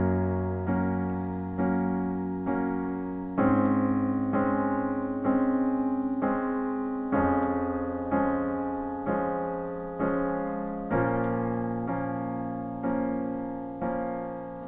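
Piano playing the chords of a song with both hands, steady sustained chords struck on a regular beat, each ringing and decaying before the next, clear and close with no talking.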